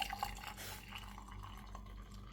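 Hot water poured into a cup, a soft trickling and dripping at close range, fading toward the end, quiet and without talk.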